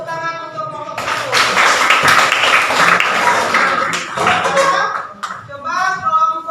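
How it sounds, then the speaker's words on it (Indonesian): A school class claps for a student group, a burst of many hands clapping that breaks in after a spoken line and fades as a voice resumes talking over it. "Beri tepuk tangan untuk kelompok 1"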